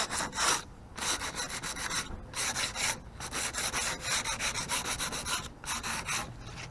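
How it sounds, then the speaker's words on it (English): Repeated rhythmic strokes of sandpaper rasping paint off wood, each pass a loud scratchy burst with brief pauses between, up close. "when you start sanding the paint"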